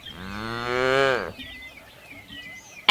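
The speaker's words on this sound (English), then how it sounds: "The cow said, "Moo, moo."" A cow moos once, a loud, drawn-out low call lasting about a second, heard alone with quiet after it.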